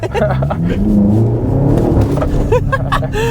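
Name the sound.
BMW X6M engine with muffler delete, jerky throttle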